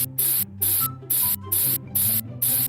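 A spray mutation is applied in the Grow a Garden video game as six evenly spaced bursts of hissing spray, each about a quarter second, loud and close over soft background music.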